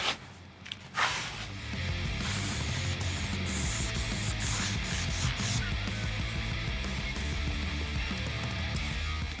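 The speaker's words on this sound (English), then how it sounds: "I'm just gonna pop this cap off, shake the can good, and start blasting." An aerosol can of vinyl and fabric dye hisses steadily as black colour is sprayed onto a car door panel carpet, a continuous close spray after a few brief rustles at the start.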